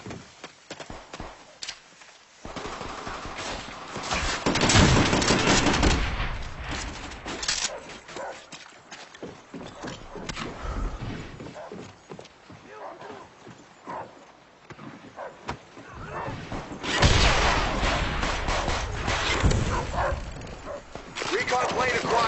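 Attack dogs barking and yipping amid gunfire in the Call of Duty: World at War shooter, several bursts of barking scattered over a busy, noisy battlefield with shouted voices.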